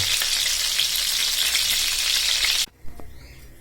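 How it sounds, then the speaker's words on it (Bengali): Chicken pieces sizzle loudly in hot oil, a dense steady frying hiss that cuts off abruptly as they are flipped, leaving a brief quiet with a couple of light clatters. "এক পাশ হওয়ার পর আমি অপর পাশ উল্টিয়ে দিছি আমার চিকেন ফ্রাইগুলো একদম রেডি"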